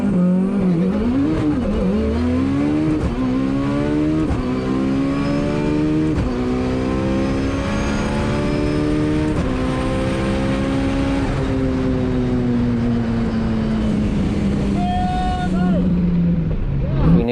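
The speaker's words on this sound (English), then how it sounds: "run Tim's Evo on a all-wheel drive dyno jet" A Mitsubishi Evo's rebuilt 4G63 engine runs hard on an all-wheel-drive dyno, revving steadily upward in a loud, sustained wail with rising tones, then falling back near the end; voices are faintly present beneath.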